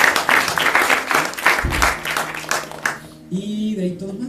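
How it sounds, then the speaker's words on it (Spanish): Church congregation clapping in a fairly loud, rhythmic burst of applause for a young man, fading out after about three seconds as a voice begins speaking. "un aplauso para Pedro"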